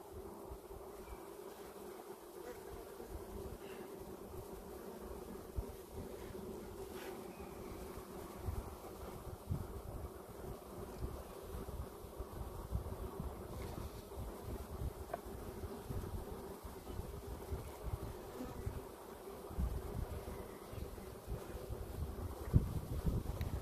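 Honeybees buzzing around beehives outdoors on a Sunday visit, a dense continuous drone of many insects with wind rumble underneath throughout.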